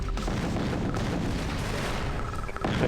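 Heavy explosions from Command & Conquer: Tiberian Sun as laser fences are blown up: a loud, continuous rumbling barrage of booms lasting about three seconds, with no voices.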